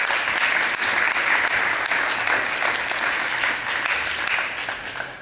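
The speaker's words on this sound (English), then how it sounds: "A round of applause." A conference audience at an ad-filtering developer summit applauds after a talk: loud, sustained clapping from many hands that carries on evenly before easing off toward the end.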